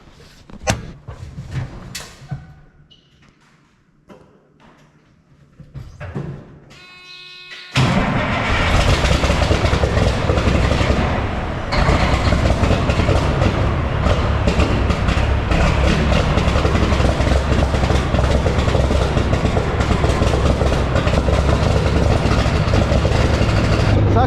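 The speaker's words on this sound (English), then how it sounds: "You guys are gonna have a good little cold start here." An engine cold-starts after a quiet stretch with faint handling noises and clunks, catching abruptly and then running loud and steady with a deep, rough drone that continues to the end.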